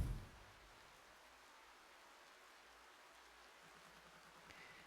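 Steady rain falling in the video game Spirittea, a soft continuous hiss of drops that stays even and moderately faint throughout, with a brief louder burst at the very start.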